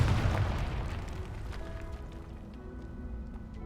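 A spell-cast explosion from Confringo in Hogwarts Legacy booms and rumbles at moderate volume, a deep blast that fades into a long crackling, rolling tail.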